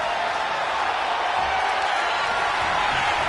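A crowd at a wrestling match in a video game roars and cheers continuously, a dense loud wall of voices with no breaks throughout.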